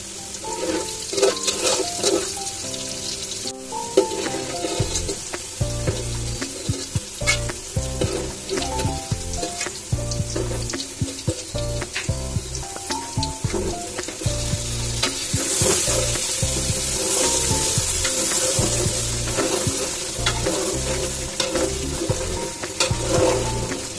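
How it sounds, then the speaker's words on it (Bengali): Onions sizzle in hot oil in a kadai for biryani, a continuous bright frying hiss broken by repeated scraping stir strokes of a spoon against the pan, close and steady throughout. "প্রথমে কড়াইতে তেল দিয়ে পেঁয়াজ বেরেস্তা করে নেব"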